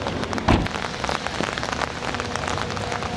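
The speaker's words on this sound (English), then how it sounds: "That rain is quick." Steady rain patters densely on a surface, a continuous crackling wash of drops with one brief louder splash near the start.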